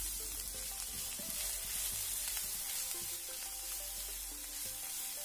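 Chopped large onion sautés in a pan for a bitter gourd curry, giving a low, even sizzle with faint clinks of a utensil, fairly quiet and without speech.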